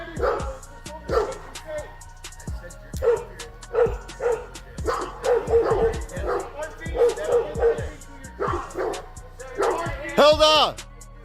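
Dogs bark and yip repeatedly in a tense doorstep confrontation, sharp bursts scattered throughout and fairly close, mixed in and overlapping with agitated voices talking.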